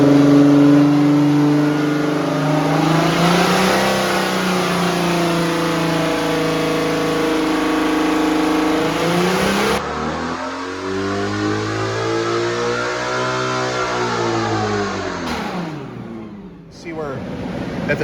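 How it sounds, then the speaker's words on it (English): A 2016 Ferrari V12 fitted in a 1968 Ferrari P4 replica runs on a dyno, a loud near engine climbing through long rising revs, easing off, then pulling again, with a brief dip near the end. "So now it's just about driving it around on the dyno and making sure that it's happy."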